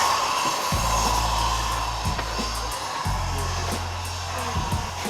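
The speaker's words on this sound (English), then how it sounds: "always gotta be somebody angle grinding close by" An angle grinder running nearby on a street in Quito, Ecuador, a continuous loud whining drone with shifting pitch that dips and resumes, heard alone without talk.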